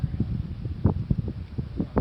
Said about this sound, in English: Right now it's mildly windy.